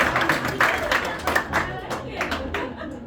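Audience applause for a card flourish at a magic show at House of Cards in Nashville, a burst of clapping with scattered voices and murmuring underneath.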